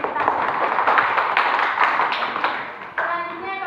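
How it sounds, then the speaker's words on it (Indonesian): A class applauds at the end of a student group's presentation, a dense patter of many hands clapping close by for a few seconds before it trails off and a voice begins. "beri tepuk tangan"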